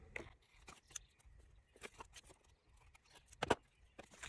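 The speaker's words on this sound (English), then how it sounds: "and trim it a little bit better with scissors." Quiet, sparse scissor snips trimming washi tape and small handling noises at close range, with one sharper cut standing out near the end.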